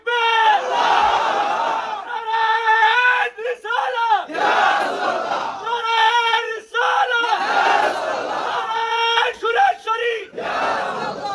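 Large crowd chanting the religious slogan Nara-e Haidari in loud, rhythmic bursts, voices rising together in repeated shouted calls with brief gaps between, close and dense.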